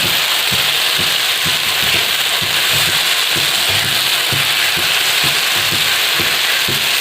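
Peanuts frying in a pan for Khandeshi chilli thecha, a loud, steady sizzle with a soft rhythmic scraping of stirring underneath, close and continuous with no talking.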